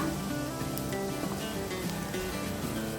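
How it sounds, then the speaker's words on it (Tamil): Sliced onions and green chillies sautéing in a pan for a spicy South Indian curry-leaf chicken, a steady close sizzle with no talk over it. "நான் சுத்த வெங்காயத்தை சேர்த்து வதக்கிக்கிறேன் அடுத்தது கூட நான் சுத்த பச்சை மிளகாய் சேர்த்துக்கிறேன்"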